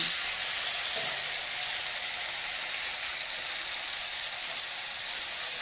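Cauliflower fries in a pan with a soft, steady sizzle and hiss that runs unbroken at low volume throughout, with no talking.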